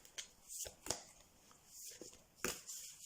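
Large oracle cards are shuffled by hand in quiet, scattered bursts of soft riffling and tapping, close and faint, with a voice murmuring in the background.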